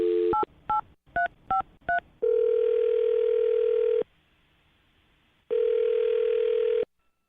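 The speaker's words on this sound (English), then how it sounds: "I'm going to dial his phone number right now and get him on the phone" A telephone dials a number with a quick run of five touch-tone beeps, then gives two long steady ringback tones separated by a pause, heard clearly with no talk.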